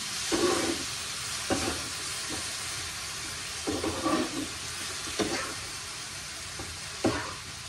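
Spiced masala and potatoes fry in hot oil with a constant sizzle, broken by repeated scraping bursts of stirring every second or two.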